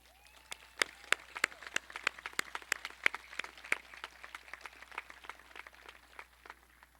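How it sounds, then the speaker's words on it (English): At a 2020 graduation ceremony, sparse applause rises for standing faculty, staff and the District Board of Trustees; loud, distinct individual claps snap out near the microphone over a thin, quieter patter of clapping that thins out toward the end. "please stand and be recognized with a round of applause"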